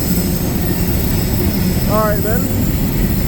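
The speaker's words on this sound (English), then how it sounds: "I wonder what took the train so long to get here" A CSX freight train creeps slowly along the B&O Old Main Line at dusk, its steady loud rumble and drone filling the scene, with a brief squeal on top and someone speaking briefly.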